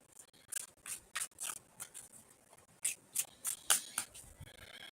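Tarot cards being shuffled by hand, a series of short crisp riffling bursts close to the microphone, with pauses between them, in a quiet room and without talking.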